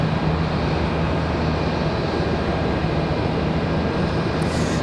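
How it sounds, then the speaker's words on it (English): An American Airlines Airbus A321-200 departs Charlotte Douglas airport for Phoenix, a steady, loud broadband engine roar holding constant throughout with no talk. "This departure right here off to Phoenix, American Airlines 2240, a A321-200 off to Phoenix"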